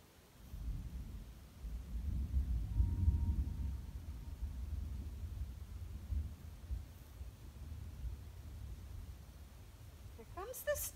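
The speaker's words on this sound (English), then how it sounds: "I smell rain and I hear thunder." Distant thunder rumbles low and long over Upper Crane Lake in Haliburton as a storm rolls in during a solo canoe trip, a steady deep roll that swells and lingers, with a brief sharper noise at the very end.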